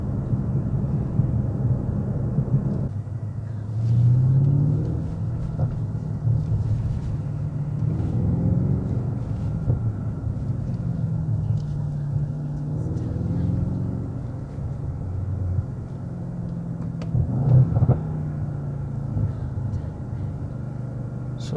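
A 2019 Mercedes-AMG S63 Coupe 4Matic+ accelerates hard, its deep engine rumble steady and close throughout, with swells and surges as it pulls through the gears.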